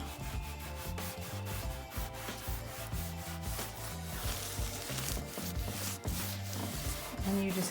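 Wax being wiped by hand onto old wooden furniture finished in chalk paint, giving a steady, continuous rubbing and scuffing close by, with repeated strokes and no talking.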